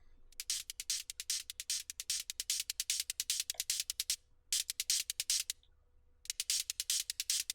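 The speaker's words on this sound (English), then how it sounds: "We have some hi-hats, which are very simple." Crisp electronic hi-hat hits from a psytrance drum preset, rapid steady sixteenth-note ticks in bursts with short gaps, bright and close with no other instruments or voices.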